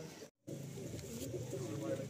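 Madrasi pigeons coo in a loft after a pair is set loose, soft low rolling calls running steadily through the clip with a brief gap near the start and some voices and room noise underneath.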